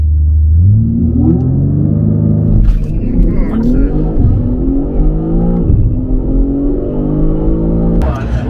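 A Nissan GT-R and a stock 2023 BMW M3 Competition rev their engines close by. The engines rise and fall in pitch through several revs and a sustained drone, with sharp bursts near the end and voices underneath.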